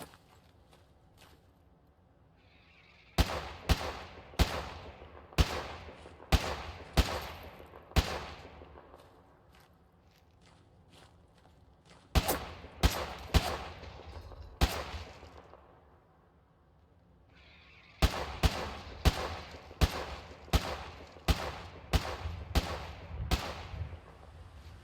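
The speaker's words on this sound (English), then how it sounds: "So I walk towards the gunshots." Gunfire in Fallout 4 during a zombie apocalypse survival run: three bursts of loud, sharp shots, with rapid clustered cracks around 3–8 s, 12–15 s and 18–24 s. Quieter ambience fills the gaps between bursts.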